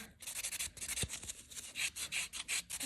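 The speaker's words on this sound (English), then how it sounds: "Once your filing is perfected, you can go in with the gray On Vogue sponge board buffer" A gray On Vogue sponge board buffer rubs across a sculpted French-tip nail in quick, regular back-and-forth strokes, close and quiet with a soft rasping texture.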